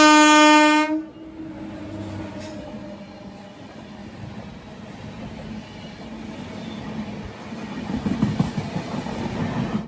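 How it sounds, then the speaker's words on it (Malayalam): A Tatanagar–Ernakulam Express sounds a loud, sustained horn blast, then its coaches rumble past close by with steady wheel clatter that builds toward the end. "ഇപ്പം മറ്റൊരു ട്രെയിൻ കടന്നു വരുന്നത് നമുക്ക് കാണാം. ടാറ്റാ നഗർ എറണാകുളം എക്സ്പ്രസ്."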